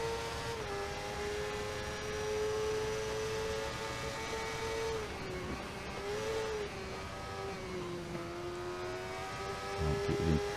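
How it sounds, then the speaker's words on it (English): A race car engine in a racing video game holds a sustained high, buzzing drone that rises and dips as the throttle is worked, loud and continuous with no talk. "we're kind of revving the throttle a bit more"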